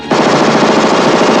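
Rapid machine-gun fire from The Stuff as a militia attacks a factory, a loud, fast continuous burst with no pauses.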